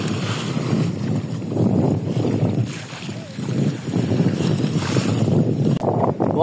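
A sailboat crossing a rough channel between Martinique and Dominica in about ten to twelve knots of wind, with steady loud wind buffeting and waves rushing against the hull throughout.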